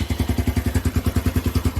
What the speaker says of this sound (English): It turns on alright for a second or so, and then once I get too much, it just dies.